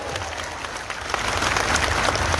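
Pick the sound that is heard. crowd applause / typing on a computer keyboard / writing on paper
crowd applause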